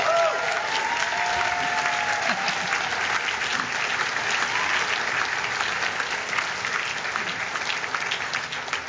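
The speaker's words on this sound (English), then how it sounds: "feel free to cheer or clap or give me an amen" Dense, steady applause and cheering fill a youth sports awards kickoff audience, a sustained wash of many hands clapping with a few voices rising briefly near the start.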